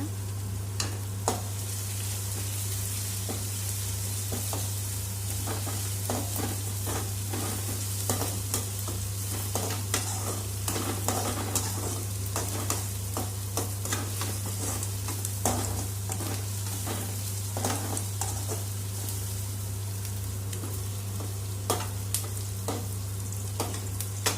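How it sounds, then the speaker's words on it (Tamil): Curry leaves sautéing in hot oil in a pan for Tamil-style prawn gravy, giving a steady crackling sizzle with intermittent stirring scrapes over a constant low hum, close and alone without talk. "அடுத்து கறிவேப்பிலை போட்டு வதக்குங்க"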